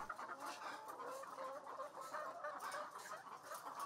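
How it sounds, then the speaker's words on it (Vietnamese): Egyptian breed laying hens cluck softly on an egg farm, a quiet continuous jumble of overlapping clucks from a flock at moderate distance. "Giống gà này là giống gà Ai Cập,"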